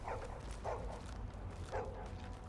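A dog in Tom Clancy's Heartland barks in three short bursts spaced across a couple of seconds, quiet and somewhat distant, over a steady low background hum.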